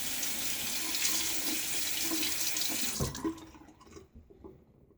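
Tap water runs steadily into a sink while shaving lather is thinned, a close rushing stream that stops near the end, leaving faint drips and handling sounds.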